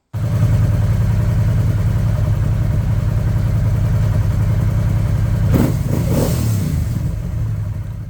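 A warm Honda XL700V Transalp motorcycle engine idles close by, a steady low rumble that holds even for several seconds. A short burst of knocking and handling noise breaks in near the end over the running engine.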